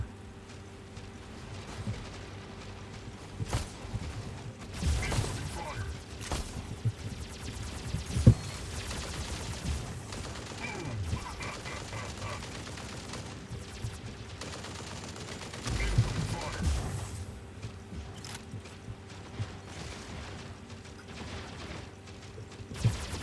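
Gunfire from a video game fills the scene with bursts of automatic fire and scattered shots over a steady background din, with two louder flurries along the way and occasional voices mixed in.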